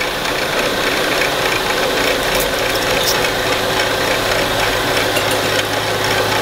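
A blade grinder is running while being fed by hand, giving a loud, steady mechanical whir with a rapid ratcheting rattle and a constant hum throughout, without talk.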